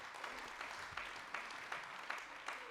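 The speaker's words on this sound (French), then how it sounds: "Oui, vous pouvez m'applaudir, ça me fait du bien" Audience applause at a congress in a large hall, a faint, steady spread of clapping with a few sharper claps standing out at regular intervals.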